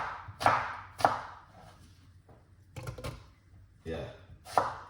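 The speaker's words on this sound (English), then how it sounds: "let's cut up some apple" A knife chops through apple pieces, several sharp, separate cuts landing at irregular intervals, each a crisp thud with a brief crunch, heard up close in a kitchen.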